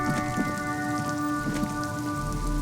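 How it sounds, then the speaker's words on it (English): Continuous rainfall in the video game Disco Elysium, a steady close hiss of drops layered over sustained tonal music, with no speech. "It's raining. I don't like that."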